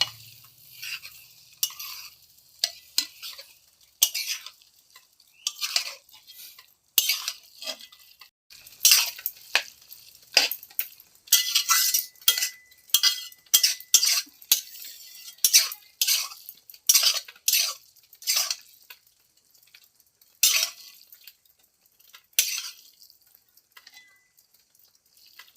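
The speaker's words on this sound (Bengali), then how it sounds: "ম্যাগিগুলোকে দেওয়ার পর আমি ম্যাগিগুলোকে সসের সঙ্গে ভালোভাবে মিশিয়ে নিচ্ছি।" Maggi noodles being stirred and mixed with sauce for spicy Korean chilli garlic noodles, with repeated close scraping and clinking of a utensil against the pan in an uneven rhythm, no voices.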